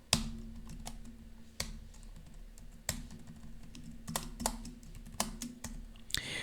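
Someone types code for a first Pascal program on a computer keyboard: irregular bursts of sharp, close key clicks with brief pauses between runs, ending in a harder cluster of strokes.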